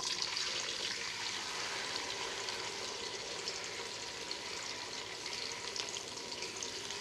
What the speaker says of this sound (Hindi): थोड़ा सा फ्राई कर लेंगे इन्हें।